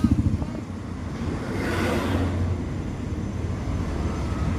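An autorickshaw carries passengers on a Sunday outing, its engine humming low and steady with road rumble underneath. A brief swell of passing traffic rises midway, and faint voices sit in the background.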